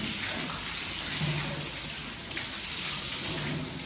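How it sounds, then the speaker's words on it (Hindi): Water sprays in a continuous hiss onto a concrete slab to cure it on a building site, loud and close. "8 सीसी पे आप जितना पानी मार लो"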